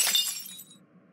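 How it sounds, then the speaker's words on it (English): A glass of water shatters on a desk in an animated talk-show scene, a single sharp crash with bright tinkling that fades within about half a second. "I didn't mean to break the glass of water on your desk"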